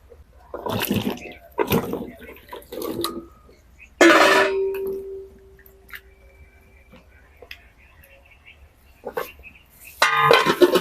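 Water and washed ash gourd tipped into a wok on the stove: a few short knocks, then a loud splashing pour with a steady ringing tone, quiet stretches, and another burst of splashing at the end.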